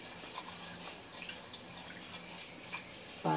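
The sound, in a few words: pouring a little water into the pork pan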